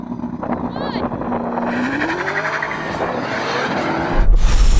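A Ferrari SF90 and a Tesla Model S Plaid launch in a drag race, with a rising engine note, tire squeal and a roaring surge of acceleration that grows louder toward the end. Onlookers talk excitedly over it.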